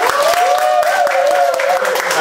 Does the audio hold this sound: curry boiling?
no